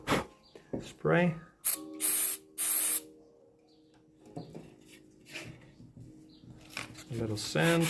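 Several short, close hissing bursts of spray are applied to a woodworking piece, with brief pauses between them and faint talk and handling noises around them.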